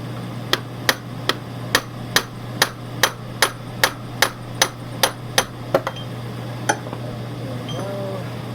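A hammer strikes a rivet on a part for an 1988 Honda CRX Si, about fourteen sharp, evenly spaced metallic blows ringing close and loud over a steady low hum, then a final lone tap.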